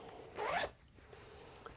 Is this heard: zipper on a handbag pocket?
yes